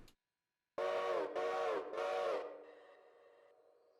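A model railroad steam locomotive whistle blows three distinct blasts, loud and close, each a sustained chordal tone with brief gaps, followed by a lingering soft hiss of steam.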